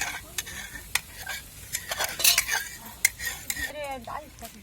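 Chickpea chutney being sautéed in a pan with cumin and chili, with a spoon scraping and clinking against the metal pan in quick irregular strokes over a soft sizzle, close up, with no talk.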